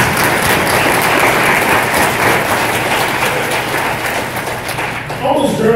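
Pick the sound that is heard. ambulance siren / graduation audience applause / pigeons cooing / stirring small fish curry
graduation audience applause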